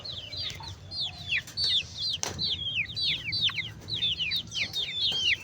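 Chickens weakened by cold weather call in rapid, high, repeated chirping bursts close by, with one brief thud partway through and a low background murmur.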